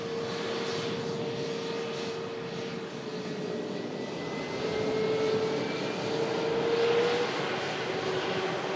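Steady, continuous roar of a four-engine Boeing 747 jet arriving at Manchester airport, heard from a distance with a sustained engine whine that swells slightly toward the end, no talking.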